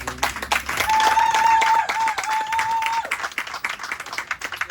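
A church congregation claps and cheers for Jesus, a dense burst of applause under a sustained tone that fades into scattered clapping and crowd noise.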